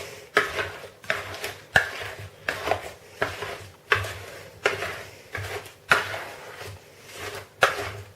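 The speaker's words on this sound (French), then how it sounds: "on mélange tout." Sliced apples folded into cake batter for an apple cake, a steady run of wet scraping and clacking strokes repeating roughly every second, close and fairly loud, with no talking.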